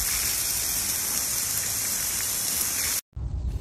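Water pouring steadily while plants are watered, a broad continuous hiss and splash that cuts off abruptly near the end and is followed by quieter background noise.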